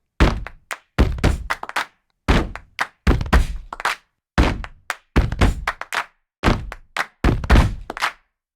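Sampled snaps, claps and foot stomps in a small studio room, a dry, close sequence of sharp percussive hits and thuds in short bursts separated by brief silences.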